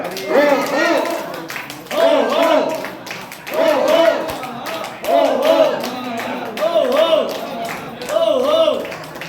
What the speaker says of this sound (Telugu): రాములు గారు చారి గారికి సన్మానం చేస్తున్నారు గట్టిగా చప్పట్లు